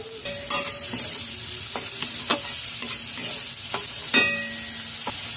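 Chopped carrots stir-fried in a pan, a steady sizzle with repeated scraping and stirring clicks of a utensil against the pan, close and moderately loud, no voices.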